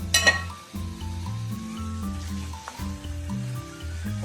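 Sliced onions and peppers with garlic salt and black pepper frying in a pan make a soft steady sizzle under faint background music, with one brief clatter near the start.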